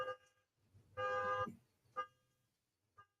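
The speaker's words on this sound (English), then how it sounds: "My car alarm's going off." A car alarm sounds in a short loud burst followed by two fainter electronic chirps, heard alone with no talking.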